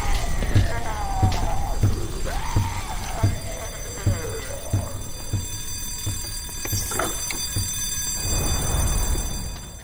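Alarms blare through a facility in the video game Black Mesa, with repeated rhythmic beeping tones and a wailing, sweeping siren layered over a low rumble.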